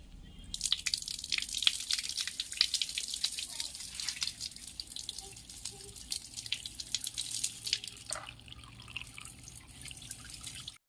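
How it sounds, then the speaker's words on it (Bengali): Chopped vegetables washed under a running kitchen tap, a steady close splash of water with small drips and clatters, easing off near the end, with no talking. "এবার আনাজগুলো একে একে ধুয়ে ফেলি।"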